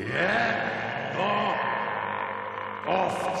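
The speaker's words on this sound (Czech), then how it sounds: "ovce!" Sheep bleat in a Czech fairy-tale TV film from 1993, with three wavering, drawn-out cries spaced across a few seconds over a steady hum and background music.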